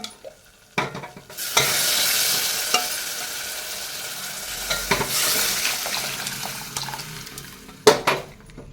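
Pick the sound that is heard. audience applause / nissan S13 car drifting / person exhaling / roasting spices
roasting spices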